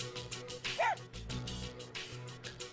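A dog barks once in the PS2 game Persona 3, a short yelping bark over steady game music and background ambience.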